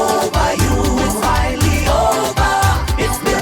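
A breakup-themed song plays on a radio talk show: full, loud mixed music with a steady beat and dense melody that fills the whole moment without pause.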